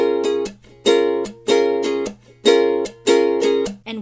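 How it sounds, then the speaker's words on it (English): An unchorded ukulele strumming pattern for a song: downstrokes alternate with sharp slaps in a repeating rhythm, close and clear, with brief gaps between bursts and no voice. "Without any chords, the strumming pattern itself should sound like this."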